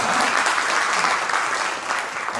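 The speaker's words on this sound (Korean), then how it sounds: "우리 고정민 대표님 지금 오셨는데 우리 박수로 환영하도록 하겠습니다." A room of people applauds loudly and steadily to welcome an arriving company representative at a cultural mission forum, the dense clapping filling the whole stretch and easing slightly near the end.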